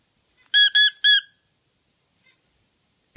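A pet bird gives three quick, clear whistled chirps close by, then falls silent.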